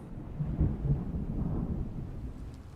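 Storm thunder in the Dune Awakening game, a low continuous rumble rolling at steady loudness with a slightly stronger swell early on, heard alone without voices.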